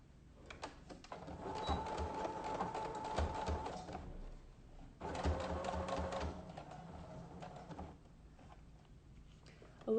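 A sewing machine sews a straight stitch holding down the pleats of a fabric face mask, with two runs of close mechanical whirring separated by a short pause.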